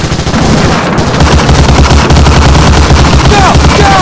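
Covering machine gun fire on Omaha Beach in Medal of Honor: Allied Assault hammers away in dense, continuous rapid bursts, very loud and close, with shouting soldiers heard beneath the barrage.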